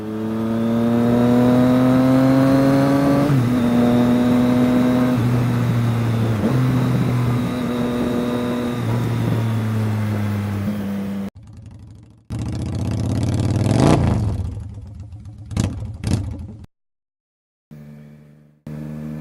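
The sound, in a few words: 2018 Triumph Street Triple motorcycle with Yoshimura Alpha T exhaust revving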